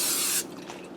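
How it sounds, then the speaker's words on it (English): Canola cooking spray hisses from a can into a 9x13 baking pan in a kitchen, a single short close burst that cuts off abruptly. "I'm going to spray with a little bit of canola spray to keep my casserole from sticking."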